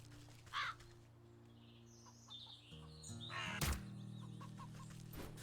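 A crow caws in the video game Wytchwood, a short harsh call near the start followed by scattered faint bird calls over a low ambient hum, with a sharper burst later.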